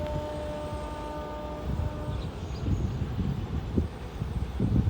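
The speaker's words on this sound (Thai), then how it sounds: "สินค้า 725 จะเลี้ยวขวานะครับ จะแยกขวา" Low rumbling and rattling of a freight train rolling past at a distance in Thailand, growing louder toward the end, with a brief horn-like tone early and wind noise.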